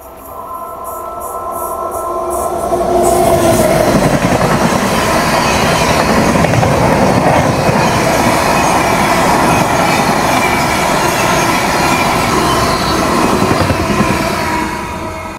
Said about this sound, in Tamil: குர்லா வந்து ஓவர்டேக் வரப்போகுது